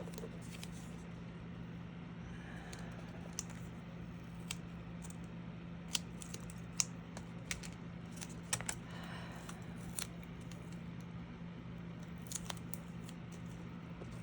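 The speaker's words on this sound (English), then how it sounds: "So let's cut a little piece of this." Scissors cut a small piece of paper with scattered faint snips and clicks over a quiet low hum, close and sparse, no talk.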